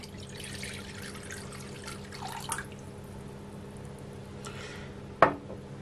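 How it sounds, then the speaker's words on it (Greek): About 200 grams of water are poured into a bowl while preparing a pork recipe, a soft, quiet splashing trickle followed by a single sharp clink near the end. "Θα βάλουμε 200 γραμμάρια νερό σε ένα μπολ."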